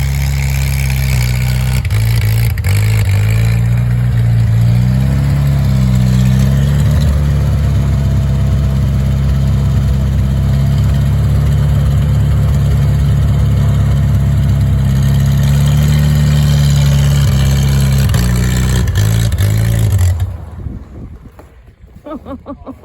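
Engine of an old Jeep, abandoned in the woods for 35 years, roaring steadily with a low rumble as it spins donuts in snow, loud and close under heavy wind buffeting, then dropping off near the end.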